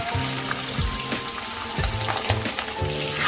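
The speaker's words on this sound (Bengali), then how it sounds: "এবার আমি মাছগুলো একটা একটা করে ভালো করে ভেজে নেব।" Pieces of aar fish fry in hot refined oil, giving a loud, steady sizzle and crackle with a few bursts as the pieces settle.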